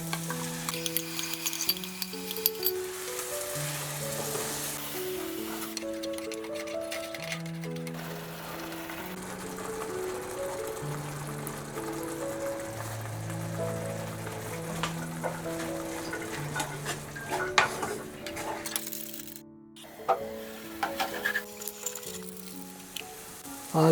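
Ginger, garlic, green chili, cilantro and celery sizzle steadily in a pan of masala for a chickpea curry, a continuous frying hiss with occasional stirring, partly masked by melodic background music throughout.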